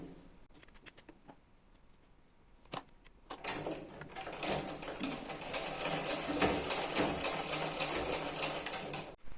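Piping is stitched onto a blouse neckline on a sewing machine. After a few quiet clicks and one sharp tap, the machine starts up close and runs steadily with a rapid, rattling stitch and mechanical whir for several seconds.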